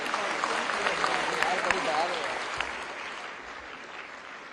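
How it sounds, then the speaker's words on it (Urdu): Loud, sustained crowd applause at a Pakistani public event where a student is recognized by the Prime Minister, thick continuous clapping that holds level and eases slightly toward the end. "آپ کی بھرپور تالیاں لیڈیز اینڈ جینٹلمن"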